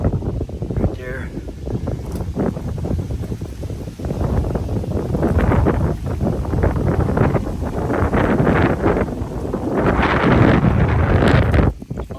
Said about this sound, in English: Oh, that wind is going to mess up. I know it's going to mess up the audio for sure.